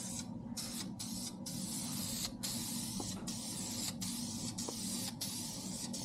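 A light coat of spray paint going onto a BMW E36 drift car, a continuous close hiss broken by several short pauses between passes of the can.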